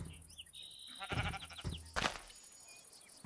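Sheep in the Minecraft video game bleat in a few wavering calls, close and clear over a quiet game background.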